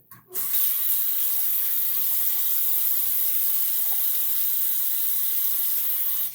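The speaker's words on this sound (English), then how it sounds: "All right, time to rinse off." A tap runs steadily into a sink for rinsing after a shave, a continuous close hiss of water that starts abruptly and carries on alone without talk.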